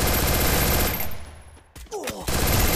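Rapid automatic gunfire in Garena Free Fire lands a headshot, loud bursts of shots, a brief gap, then more sharp cracks and a final burst, all close.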